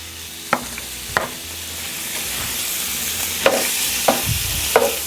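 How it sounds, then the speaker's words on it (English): Shrimp frying in melted butter in a hot pan, a steady close sizzle with occasional sharp clinks and scrapes as the pieces are stirred and tossed, with no talking. "On the pan we go with our shrimp."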